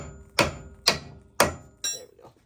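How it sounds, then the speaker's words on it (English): A hammer smacks an axle nut on a second-generation Ford Explorer during a live axle to locking hub swap, three loud metallic strikes at an even pace, then a softer clattering hit, close up. "we're going to wind up smacking it with a hammer"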